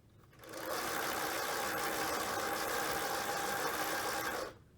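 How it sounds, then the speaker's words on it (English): A small electric wheel motor on an Arduino-controlled robot runs steadily for about four seconds, a close, even mechanical whir that starts and stops abruptly, with no talking. "I'm going to start the motor now."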